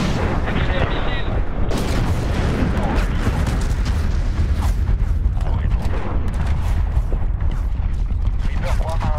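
Missile explosions in the Medal of Honor 2010 video game, with loud, dense booms and blasts mixed with gunfire and mechanical rumble throughout, and battle voices calling out over the din.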